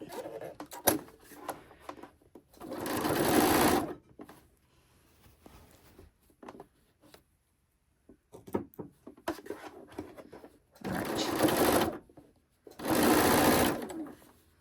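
A sewing machine stitches quilt-as-you-go bias binding on a Christmas tree skirt, running in several short, steady bursts with quiet handling noises and fabric movement between them.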